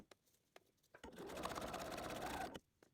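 A sewing machine stitches ribbon along the edge of a small fabric bag, a quiet, close whirring burst of about a second and a half between soft handling clicks.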